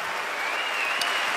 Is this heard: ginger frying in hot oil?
no